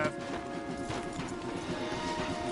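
Horses clip-clopping to a halt as riders dismount in Red Dead Redemption 2, steady hoof and tack sounds over a continuous outdoor ambience, no voices.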